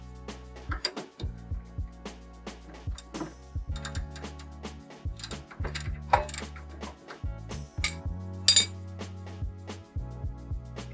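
Ratchet wrench undoing the rear sway bar end links on a Mazdaspeed 3, rapid clicking pawl bursts in short repeated runs with metallic clinks between, close and clear with no talk.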